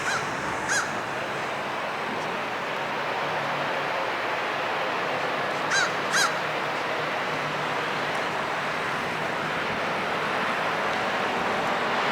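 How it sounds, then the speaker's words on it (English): A crow calls from a tree along a Great Smoky Mountains drive, a few brief harsh caws spaced apart over steady wind and road noise. "And we got a crow in the tree right here."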